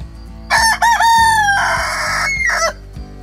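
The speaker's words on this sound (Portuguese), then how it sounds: "Rooster." A rooster crows once, loud and close, in a long wavering cock-a-doodle-doo with a few clucks, over a soft music bed.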